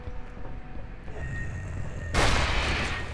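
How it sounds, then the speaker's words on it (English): A double-barrel blast from the gun's alternate fire in Aliens vs. Predator (2010) erupts as a single loud, broad boom after a quieter stretch of game ambience, then rings out. "That was the alternate fire on the gun. Apparently it shoots both barrels, I guess?"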